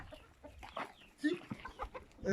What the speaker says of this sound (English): The chicken are already out and they are looking for feed.